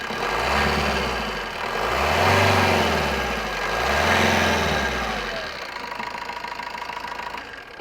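A used Maruti Suzuki Swift diesel car with about 147,000 km on it, single owner, clatters through its engine start and settles into a steady, knocking diesel idle close by, with no talk over it.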